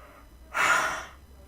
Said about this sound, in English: God damn, stop yawning.